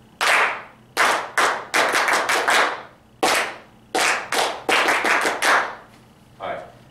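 Hand clapping in a rhythmic exercise pattern, about a dozen sharp claps grouped in short repeated phrases, close and loud with no talking.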